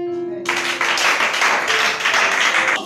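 A church congregation bursts into applause after a brief tone, a dense, steady wash of clapping that holds loud and close until the end.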